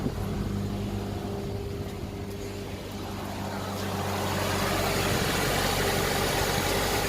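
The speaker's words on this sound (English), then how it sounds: "I'll turn on the engine just to help circulate it through" A 1996 Toyota Corolla engine idles steadily nearby with its radiator drained, a low, even hum that grows slightly louder partway through.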